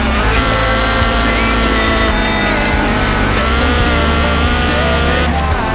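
Ford RS 1800 rally car racing in Forza Horizon 4, engine roaring loudly and continuously with tire squeal and gear changes, no talk.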